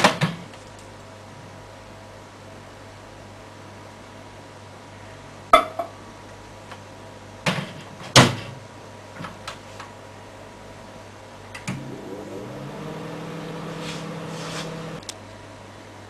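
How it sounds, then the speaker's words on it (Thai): Microwave oven heating agarose gel in buffer at medium power, a steady low hum running throughout, broken by a few sharp clicks and clunks and a brief whirring tone near the end. "อุ่นด้วยไมโครเวฟที่ระดับมีเดียม1นาที"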